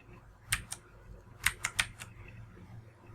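Someone types a search term on a computer keyboard: short bursts of crisp key clicks, a pair and then a quick run of four, close and fairly quiet against a low steady hum.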